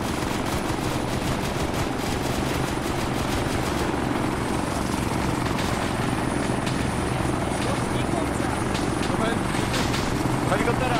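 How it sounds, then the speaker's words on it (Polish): Loud, steady helicopter rotor thumping in the video game Arma 3 fills the whole stretch, with bursts of gunfire and voices talking over it. "Helikoptera!"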